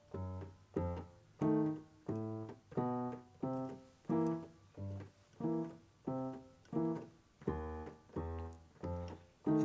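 Solo piano plays a steady alternating pattern of low bass notes and mid-range chords, with short chromatic runs leading into the next bass note.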